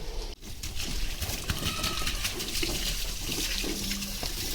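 Water poured gently from a container into an azolla growing bed on a farm, a steady splashing, running flow close by that continues throughout, with no talking.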